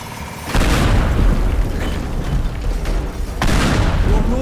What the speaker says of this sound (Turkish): patlama üstüne patlama.